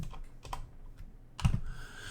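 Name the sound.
typing on a computer keyboard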